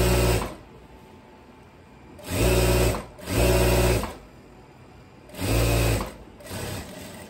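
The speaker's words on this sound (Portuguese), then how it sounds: "eu tô costurando o meu tecido no elástico aqui, prendendo" Sewing machine stitching viscose fabric onto elastic, running in three distinct bursts of steady, close, loud motor whirring, separated by quiet pauses with no talk.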